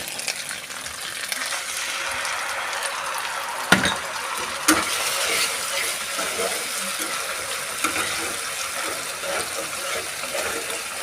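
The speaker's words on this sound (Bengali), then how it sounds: "আদা রসুন পেঁয়াজের পেস্টটা আমার ভালো করে বাদামি করে ভাজা হয়ে গেছে এর মধ্যে দিয়ে দেব টমেটোর পেস্ট" Tomato paste hits a pan of browned ginger, garlic and onion paste, giving a loud, continuous bright sizzle with a couple of sharp clinks from a utensil, close and without speech.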